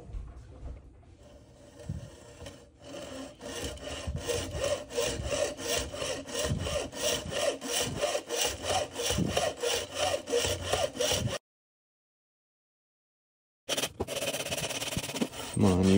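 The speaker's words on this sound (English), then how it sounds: "Get the hacksaw out. Start cutting that." A hacksaw cuts a plastic fill-valve part from a Fluidmaster toilet tank repair kit down to length, rasping in steady rapid back-and-forth strokes, close and loud, with a brief pause before sawing resumes.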